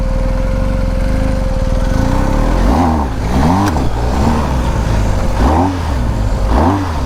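A BMW GS1250 Adventure motorcycle engine drones loudly and close off-road, with repeated rising and falling revs as the throttle is worked over the rough ground.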